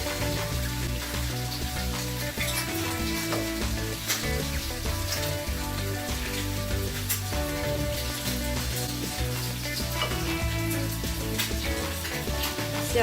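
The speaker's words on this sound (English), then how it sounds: "Now we will put some butter on the bread before putting it on the pan." Buttered bread fries in a pan with a loud, steady crackling sizzle and occasional scrapes, close and continuous throughout, with no speech.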